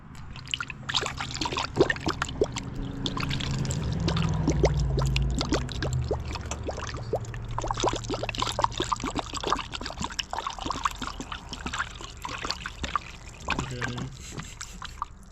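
Coolant glugs and trickles steadily into the cooling system of a Toyota Corolla Hybrid during a 100K-mile service, a close, continuous pour with bubbling surges and faint background noise.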